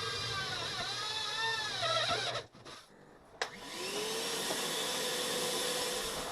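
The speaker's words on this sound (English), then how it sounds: "I'm just using the hole saw here, the hole bit, to go through." A hole saw bores through a solar panel frame with a loud, close, whining drill drone that shifts in pitch, stops briefly partway through, then starts again.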